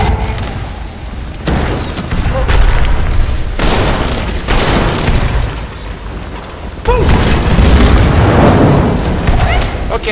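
A large fire blast in the fantasy game Skyrim erupts loud and close as a sustained roaring whoosh, swelling in repeated bursts over steady background game sound with no talking.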